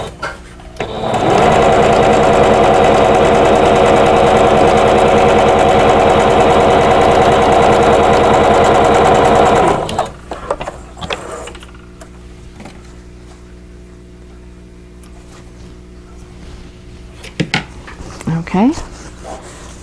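An electric sewing machine runs loud and steady for about nine seconds, stitching quilt block pieces placed right sides together for a vintage Turkey in the Straw block. It then stops, and someone talks quietly over faint handling noises.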